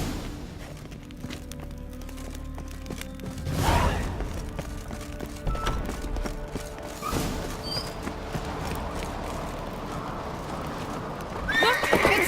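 Horse hooves clip-clop in a steady gallop in The Witcher 3: Wild Hunt, with occasional whinnies and thuds layered over game ambience, continuing throughout.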